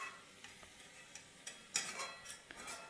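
Home kitchen stirring of puffed rice being dry-roasted in a pan for breakfast, with sparse scraping clicks and light ladle taps against the pan over a faint steady hiss, close and fairly quiet.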